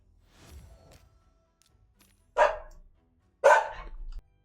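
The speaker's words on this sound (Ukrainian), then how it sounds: "Щось там собака гавкає собі" A dog barks twice in the distance, with sharp single barks about a second apart after a faint earlier yip, heard in a quiet setting without speech.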